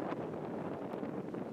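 A strong gust of wind buffets the microphone outdoors, producing a dense, steady roaring rumble throughout the short stretch with no talking.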